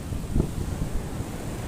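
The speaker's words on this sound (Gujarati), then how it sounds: "ખૂબ સરસ દરિયો" Sea waves at Madhavpur beach on the Gujarat coast roll in as a steady low roar, heavily buffeted by wind noise on the microphone, with no clear individual breakers.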